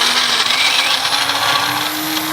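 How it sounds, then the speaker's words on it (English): A kitchen blender whirling avocado for a raw food demonstration, a loud, steady high-pitched motor whir held close for a couple of seconds with no speech. "you're going to just throw that in the blender over there"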